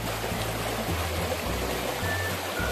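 Water flowing steadily in a stream through a Lao village, a continuous broadband rush heard close and alone from start to finish.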